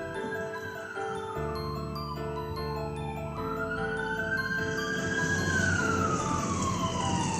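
A wailing emergency siren rises and falls, loud and continuous, with the pitch sweeping up and down over a rumbling engine.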